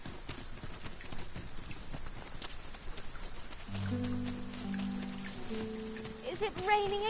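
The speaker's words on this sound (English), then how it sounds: "Is it raining again?" Rain falls steadily in a fantasy role-playing video game, a soft continuous patter throughout, joined midway by sustained musical tones and a brief rising chime near the end.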